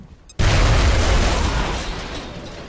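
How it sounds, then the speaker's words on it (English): A grenade goes off in XCOM: The Long War with a sudden loud blast after a brief quiet moment, followed by a deep rumbling tail that slowly fades. "Throwing grenade!"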